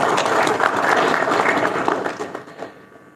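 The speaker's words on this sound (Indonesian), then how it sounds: "tepuk tangan untuk teman-teman semua" An audience at a PKB party regional meeting in Bekasi applauds loudly with dense, sustained clapping that fades out toward the end.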